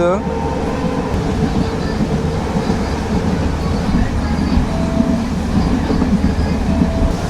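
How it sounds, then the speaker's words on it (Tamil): A train rumbles steadily along the rails at speed, gradually gaining pace, with a continuous low roar and faint rhythmic clatter, loud and close throughout, with no pauses. "ட்ரெயின் போகிற ஸ்பீடை பாருங்க கொஞ்சம் கொஞ்சமாக வேகம் வந்து அதிகரிக்குது"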